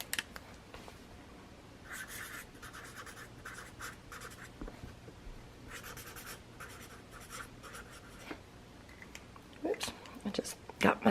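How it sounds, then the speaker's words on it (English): A Sharpie marker squeaks and scratches across a surface in short bursts while a name is written, close and quiet, with faint soft speech and rustling in between. "I'm going to write your name down"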